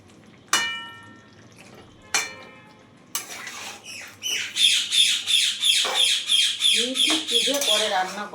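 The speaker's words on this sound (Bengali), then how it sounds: "পুজো করে রান্না করার টাইমে এত রকম পাখির আওয়াজ করে," A pet bird squawks in a kitchen where chicken is being cooked. Two sharp, isolated calls come first, then a rapid, loud run of close, repeated squawks and chirps.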